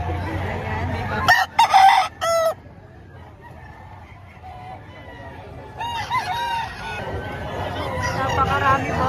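Roosters crow at a busy chicken market in Padre Garcia, Batangas, with a couple of loud, close crowing bursts early on and more calls later, all over a steady murmur of crowd chatter.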